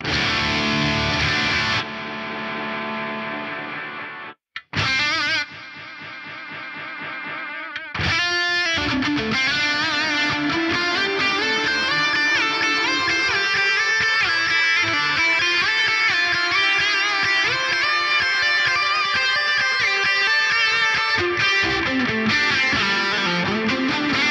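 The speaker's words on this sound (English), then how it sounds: "Furthermore, I've set this up so it pans left to right as we go, and we get this effect." Repeating delay taps from a Fractal FM9 build on a distorted electric guitar, swelling in level and sweeping from left to right, with a brief gap before the effect fills out into a dense wash.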